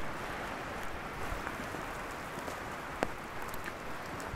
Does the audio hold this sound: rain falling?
yes